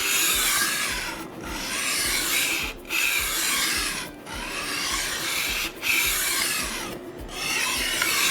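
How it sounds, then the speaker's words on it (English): Kitchen knife stroked back and forth on a whetstone in steady rasping passes with brief pauses between strokes, close and moderately quiet, no talking. "Thêm mài cái dao này nè"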